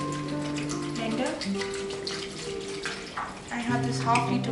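Water poured from a half-liter bottle into a blender while a mango drink is being made, a steady splashing pour heard close up alongside speech, with a brief pause before the flow resumes.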